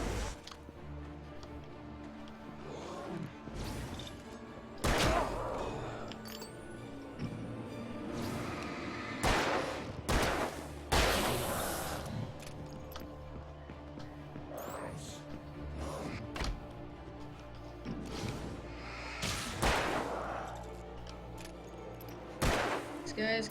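Gunfire in the video game Alan Wake, several loud sharp shots spread through the stretch over a steady game soundscape, with a person talking at times.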